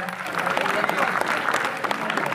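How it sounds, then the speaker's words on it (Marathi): Audience clapping for a prize winner at a village children's talent show, a steady dense patter of applause filling the whole stretch with murmuring crowd voices underneath. "टाळ्या झाल्या पाहिजे, टाळ्या."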